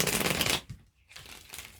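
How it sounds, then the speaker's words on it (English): Tarot cards being shuffled up close: a dense riffling burst, a short pause, then another softer run of shuffling. "let's give these cards a shuffle for Aqua."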